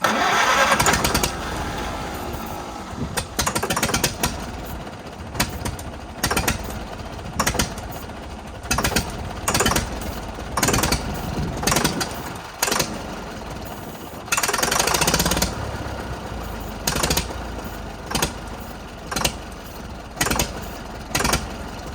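A 1945 Farmall H tractor, a barn find on gasoline, cranks and catches, then runs roughly with loud, uneven chugging and repeated sharp bursts and sputters close by, without any talk.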